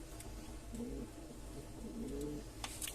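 Sfianos pigeon pair cooing close by: two soft, throaty coos rise over a low background rumble, with a light rustle near the end.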